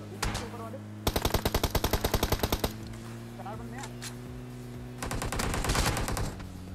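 Gunfire in the PUBG Mobile battle royale game: two rapid automatic bursts of closely spaced shots, loud and near, separated by quieter background game sound with faint talk.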